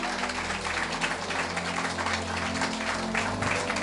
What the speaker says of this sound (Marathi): या प्रेमासाठी, या बलिदानासाठी मी जोरदार टाळ्या वाजवतो.